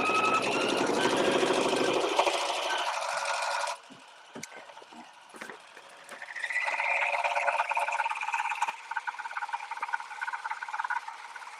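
A sewing machine runs loud and steady for several seconds, its motor whirring while loose items left on it rattle, then pauses, with a few faint clicks, before starting up again with a rattling, uneven hum.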